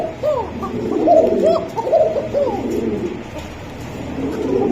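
Racing pigeons coo close by in a repeated rolling rhythm, several birds overlapping in loud, throaty calls that continue throughout without talk.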